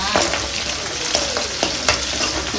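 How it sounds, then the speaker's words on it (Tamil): Continuous sizzling and frying from sautéing in a ladle while making sundakkai (turkey berry) kuzhambu, with small scraping stirs and occasional louder crackles, close and steady throughout. "இந்த கரண்டிலே வதக்கலாம்"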